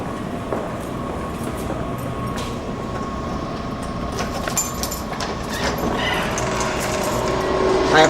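Machinery noise in an elevator machine room located on the bottom floor of a building: a steady, loud mechanical rumble and hum with a faint tonal whine, continuous throughout and growing slightly louder near the end, with no talk.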